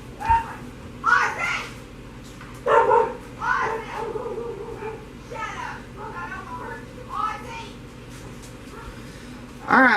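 Dogs barking at someone outside during a home soap-making session, several sharp barks in uneven bursts at moderate distance, with yips and a few louder barks near the end.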